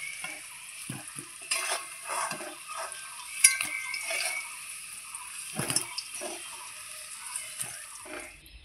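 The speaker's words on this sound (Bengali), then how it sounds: "আমার আলুটা লবণ দিয়ে ভাজা হয়ে গেছে খুব সুন্দরভাবে" Salted potato pieces fry in oil in a pan, a soft sizzle broken by scraping stirs and clinks of the spatula at irregular moments, fairly close.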